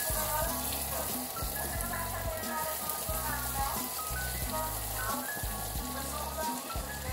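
Crushed garlic frying in a pan alongside a pork chop, a soft continuous sizzle running under a person talking throughout.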